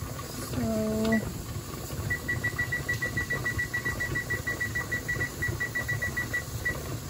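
A kitchen timer goes off during home canning, giving a rapid run of steady high beeps that repeat for several seconds over a low background rumble, after a short tone at the start.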